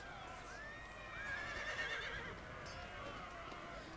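Cavalry horses whinny and neigh during a charge in the video game Napoleon: Total War, over a busy background of hooves and battle noise, with a faint voice underneath.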